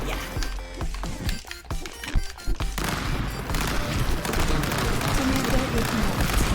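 Cartoonish gunfire from the Worms video game crackles in rapid bursts, then gives way to a denser, continuous rumble of shots and explosions, with people talking faintly underneath.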